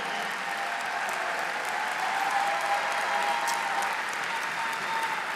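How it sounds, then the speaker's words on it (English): Sustained applause from the audience at the AFSCME 47th International Convention, a large hall of union members clapping steadily and evenly throughout, fairly distant with a faint crowd murmur beneath. "let's give Lee and Elisa a huge round of applause for what they've done for AFSCME, but the whole labor movement."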